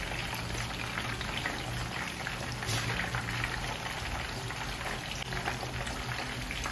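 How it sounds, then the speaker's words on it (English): Steady crackling sizzle of croaker fish frying in hot oil, continuous and even throughout, with a faint high hiss above the bubbling. "So you see the way it's frying on its own like this."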